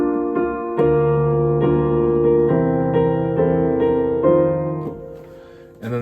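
Piano chords from a hymn arrangement played with the left hand's top note lowered, a series of sustained, ringing chords struck one after another, close and clear, fading out at the end.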